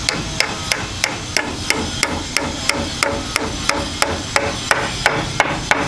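Hammer blows ring out during house construction, around fifteen sharp, evenly spaced strikes in a steady rhythm, close and loud over faint background noise.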